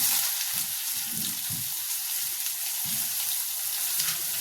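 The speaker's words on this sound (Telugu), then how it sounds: "ఉల్లిపాయలు బాగా ఎర్రగా ఫ్రై చేసుకోవాలి" Chopped onions frying in oil with mustard seeds and cumin, a steady close hiss of sizzling with soft low stirring bumps scattered throughout.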